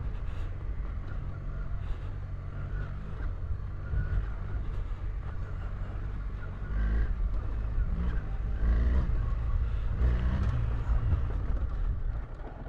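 A BMW R1300GS motorcycle engine running while being ridden, a steady low rumble under wind noise that grows louder partway through, with no talking.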